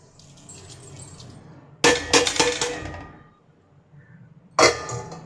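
A loud sizzling crackle as hot tadka tempering is poured into a pot of kadhi, fading over a second, then a second sharp sizzle near the end.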